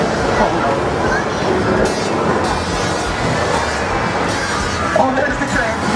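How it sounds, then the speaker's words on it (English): A steady rumbling roar of a passing train on the Universal Studios Hollywood studio tour fills the clip, with rattling and clatter throughout and people talking faintly underneath. "Oh, there's the train."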